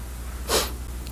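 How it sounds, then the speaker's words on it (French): A single loud, sharp sniff or snort from a man during a police interview, short and close, standing out against a quiet room hum. "On va observer un reniflement assez sonore"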